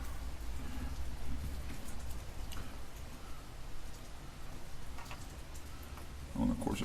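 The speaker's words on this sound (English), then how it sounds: "we just had a pretty torrential little downpour out there" Steady heavy rain hisses continuously outside, a dense, even wash of sound with occasional faint knocks.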